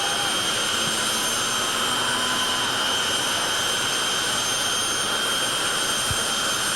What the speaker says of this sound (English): That's how fast those turbines are spinning in those jet engines.